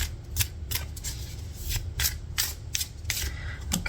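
Tarot cards shuffled and drawn from the deck, a run of quick papery riffles and slides in separate bursts, close and moderately loud over a low background hum.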